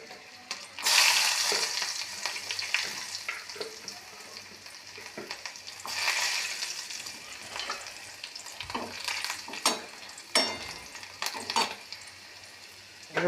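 Garlic cloves sizzle in hot oil in a wok after fish has been fried, a bright crackling hiss with bursts as they go in, broken by scraping stirs and light utensil clinks.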